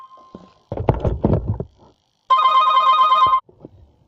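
A telephone rings with one sustained, loud electronic trill lasting about a second, following some muffled bumping and handling noises.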